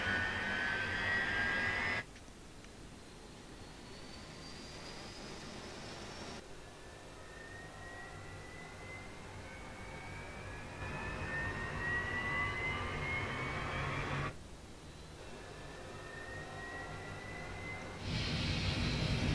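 The twin jet engines of a Eurofighter in Microsoft Flight Simulator spool up, a steady roar with rising turbine whines that climb in pitch across about twenty seconds and change as the view shifts.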